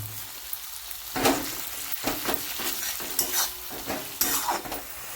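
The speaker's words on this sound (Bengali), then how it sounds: "পেঁয়াজ এখানে গোল্ডেন ব্রাউন মতন ভাজা হয়ে গেছে, পেঁয়াজ তেলও ছাড়ছে।" Onions fry golden brown in hot oil for lemon chicken. A constant sizzle runs underneath while a spatula scrapes and stirs them in repeated, uneven strokes.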